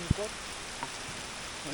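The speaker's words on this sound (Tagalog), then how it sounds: "Inabot na kami ng ulan." Rain falls in Baguio on a long fixed-gear bike ride as riders shelter under a tree, a steady broadband patter with a soft thump near the start and faint voices in the background.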